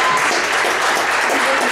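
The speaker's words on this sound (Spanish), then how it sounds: "Un aplauso." Steady, dense applause from a crowd at a squash match in Riobamba, filling the whole moment with even clapping and no gaps, welcoming a player from Squash Real Sport.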